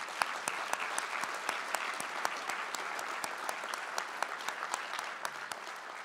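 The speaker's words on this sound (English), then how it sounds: "Let's give Commissioner Kuney one more round of applause." Applause for Commissioner Kuney at a county address, a scattered audience clapping with distinct individual claps standing out over a fairly quiet, steady wash of hands.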